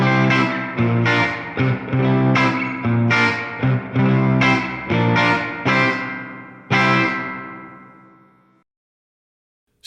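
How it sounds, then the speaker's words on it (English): An electric guitar plays a run of picked notes and chords through a Fender Tone Master Pro '63 Spring Reverb convolution effect, each attack ringing out, ending on a long decaying tail into silence. "Convolution reverb effect based on the 63 Spring Reverb unit"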